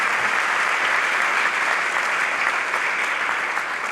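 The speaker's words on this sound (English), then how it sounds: "Give yourselves a round of applause." Thick, steady applause fills a ribbon-cutting and grand opening ceremony for a community college's performing arts center, loud and continuous with no voices standing out.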